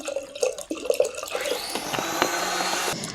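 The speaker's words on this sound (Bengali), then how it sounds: "এবার ঠান্ডা জল দিচ্ছি একটু" Cold water pours into a yogurt and banana drink, a brief clatter of handling giving way to a steady close splashing stream lasting under two seconds, then stopping.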